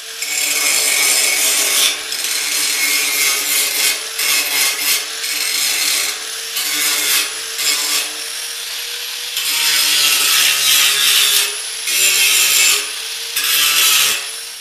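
A Harbor Freight 4-inch angle grinder grinds welds on metal with a loud, harsh, close whine. It comes in repeated bursts of a few seconds each, separated by brief dips as the disc lifts off the work, with no talking.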